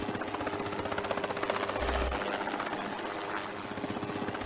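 A helicopter hovers beside a mountainside during a rescue pickup, its rotor giving a loud, continuous rhythmic thumping with engine roar beneath, steady throughout.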